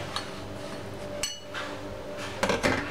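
Butter-coated cracker crumbs are stirred in a bowl for a no-bake strawberry cheesecake base, with a few sharp clinks of utensil on bowl over a quiet scraping background.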